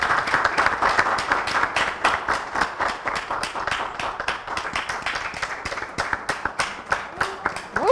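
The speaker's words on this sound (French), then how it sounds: "Je vous demande d'applaudir très," Audience applauding a guest at a talk show, with dense, steady clapping that runs for the whole stretch at close range and thins slightly near the end.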